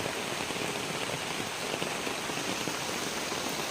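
Steady rain falls outdoors, a dense, even hiss of drops hitting surfaces, constant and fairly loud with no voices.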